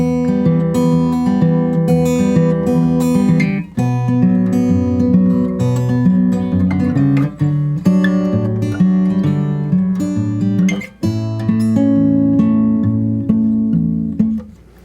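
Fingerstyle acoustic guitar plays a steady, melodic passage of a country blues arrangement, with bass notes and plucked chords, close and clear, with no voices.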